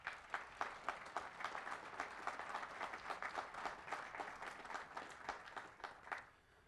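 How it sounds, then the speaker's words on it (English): Graduating students at an Army War College ceremony give their families a round of applause: dense, steady clapping from a large hall crowd, fairly distant, tapering off at the end. "how about for the students to give your families a round of applause"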